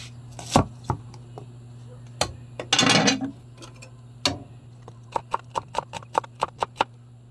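Onions chopped with a knife on a board: scattered single knocks, a brief rustle, then a quick even run of about ten sharp chops, close and clear.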